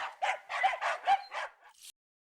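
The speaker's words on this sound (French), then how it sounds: "Juste un chien qui aboie." A small dog yaps out a quick run of about six sharp barks close by, each one short and high, before it falls silent.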